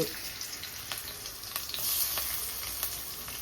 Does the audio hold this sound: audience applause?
no